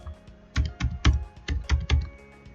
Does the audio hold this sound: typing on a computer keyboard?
yes